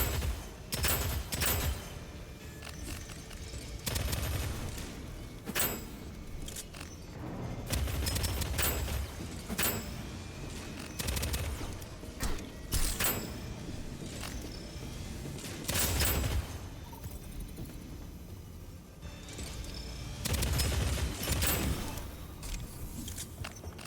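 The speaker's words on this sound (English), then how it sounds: "we'll use a submachine gun" Submachine gun fire in the video game Dead Zone Rogue, recurring short bursts of rapid shots with booms and mechanical clicks between, fairly close and with no talk.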